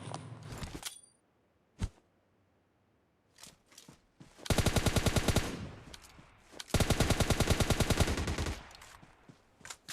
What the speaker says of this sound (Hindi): आपने देखा कि 2 गन साउंड आ रहे हैं